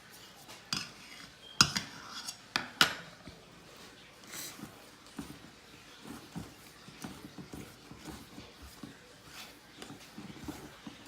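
A spoon clinks and scrapes against a bowl while frosting ingredients are whisked together, with irregular light taps, a few louder knocks early on and quieter scraping afterward.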